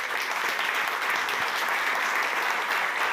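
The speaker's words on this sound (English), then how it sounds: "More applause for Greg." A live conference audience applauds a guest walking onto stage at a radio industry event, a dense, sustained wash of clapping that stays loud and even from start to finish.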